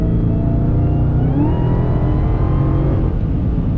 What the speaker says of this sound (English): Even when you're just revving it, the valves open up, and then on the road, it opens up good.